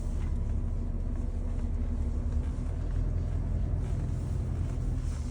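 An off-road vehicle climbs a steep hill at the Galloway Country Fair off-roading experience, its engine a steady, loud low rumble that holds constant throughout with no talk over it.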